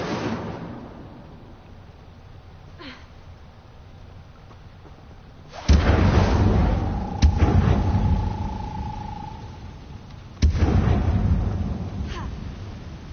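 Incendio fire spells cast in the video game Hogwarts Legacy: sudden loud whooshing bursts with a rumbling tail, two main blasts several seconds apart over a quieter game backdrop.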